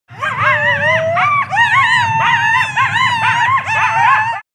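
A coyote howls in a series of rising and falling, wavering cries with yips, loud and close, continuing for several seconds without pause.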